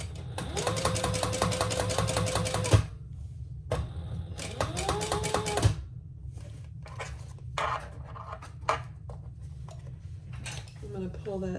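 A sewing machine stitches a clutch bag with highly contrasting thread in two fast rattling bursts, each a few seconds long, followed by lighter handling clicks and rustles up close.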